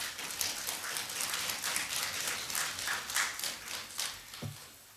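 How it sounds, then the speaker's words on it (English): Applause in the Pan African Parliament chamber: a dense, steady crackle of many hands clapping at once, sustained for several seconds before thinning out at the end. "May I ask you to give her another round of applause"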